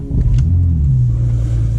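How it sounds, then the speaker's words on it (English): An idling car engine produces a steady, loud low rumble that holds evenly close by for about two seconds, with no voices. "All right, so I'm gonna go ahead and turn the vehicle on."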